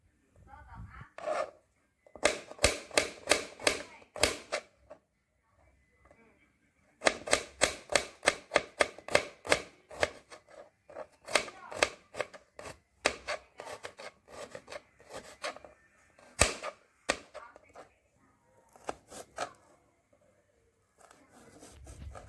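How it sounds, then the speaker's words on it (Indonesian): A knife slices garlic on a cutting board in a home kitchen, making rapid bursts of crisp, evenly spaced taps close up. The bursts come in several runs separated by short pauses. "Bawang putihnya juga diiris."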